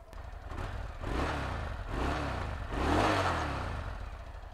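A Yamaha XVS 650 Dragstar motorcycle engine revs up three times in smooth swells, each rising then falling, with a muffled, soft tone and no voices.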